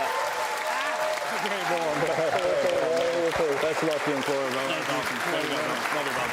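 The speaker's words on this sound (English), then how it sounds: "Listen to this crowd." A crowd at the 2024 PBA bowling playoff quarterfinals claps and cheers steadily in a big arena, with a commentator talking over the noise the whole time.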